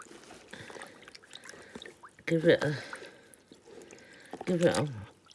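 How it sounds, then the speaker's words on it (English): Scrap fabric is dunked and worked in a container of lukewarm water, making two short bursts of close splashing and sloshing between quieter dripping, while a person talks throughout. "this is just like a lukewarm water. So I'm going to put that straight in there, get it wet"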